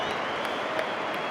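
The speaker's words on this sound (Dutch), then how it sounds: "Applaus van het publiek." An audience applauds at a tribute event, a brief wash of steady clapping at moderate volume with no clear voices over it.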